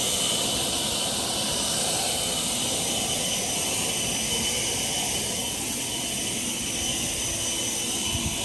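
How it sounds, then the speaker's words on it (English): An Atlas 80V battery leaf blower pushes heavy leaves out of a corner with a loud, steady rushing roar of air that holds close and unbroken throughout. "Let's go ahead and try to blow some of these leaves."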